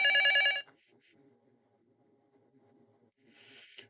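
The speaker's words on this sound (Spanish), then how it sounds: "Teléfono, fíjate." Telephone ringing from an ambient background-sound app: one loud, bright electronic trill that stops abruptly after about half a second, followed by near silence and a faint hiss.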